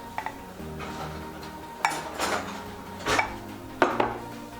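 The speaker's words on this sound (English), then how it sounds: "we are going to mix our egg yolks into our paste we made earlier" A utensil scraping and clinking against a pan while egg yolks are stirred into a thickened paste for butterscotch pie, intermittent close taps and scrapes in a quiet kitchen.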